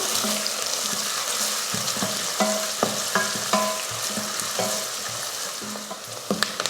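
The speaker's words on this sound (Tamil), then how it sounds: "அடுத்து கருவேப்பிலை வதக்கி விட்டுக்கலாம்" Curry leaves and onions sauté in hot oil for a tomato rice dish, a steady sizzle broken by repeated clinks and scrapes of a stirring spoon against the pan.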